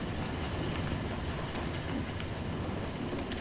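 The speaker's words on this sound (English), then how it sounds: "I'm going through the train box car." Steady rumbling rattle of a train box car in Uncharted: The Lost Legacy, a dense continuous clatter of wheels and carriage that stays loud and unbroken throughout, with no speech.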